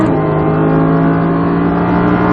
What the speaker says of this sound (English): And now accelerate out as hard as you want.